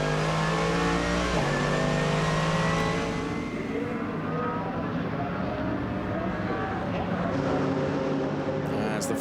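GT race cars pull into the pit lane at Oschersleben for a driver change during an ADAC GT Masters race, engines loud and close, revving and droning steadily, the pitch dropping after about three seconds as they slow.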